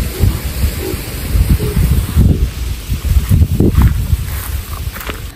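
Strong wind blowing hard ahead of a storm, a loud continuous rushing roar with gusty surges and rustling, no voices present.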